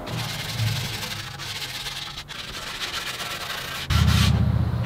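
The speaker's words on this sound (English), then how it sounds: "Hand sanding." Hand sanding along the edges of a wooden table built from yard logs, a continuous rasping rub of sandpaper on wood close by, steady strokes that grow louder and coarser near the end.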